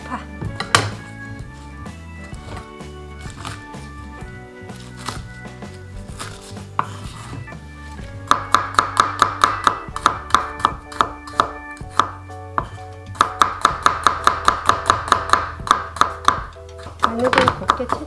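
A knife chops green onions and water dropwort on a cutting board in quick, sharp rhythmic bursts for a Korean pomegranate water kimchi, with sparse slower cuts early and dense rapid runs later.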